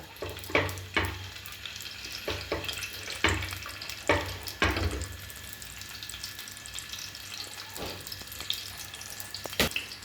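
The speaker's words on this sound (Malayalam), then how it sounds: "വെളിച്ചെണ്ണ നന്നായി മൂത്തതിന് ശേഷം അതിലേക്ക് വെളുത്തുള്ളി, നമ്മൾ അരിഞ്ഞു വെച്ച വെളുത്തുള്ളി ഇടുക" Chopped garlic frying in hot coconut oil, a steady soft sizzle punctuated by occasional clinks and scrapes of a utensil in the pan.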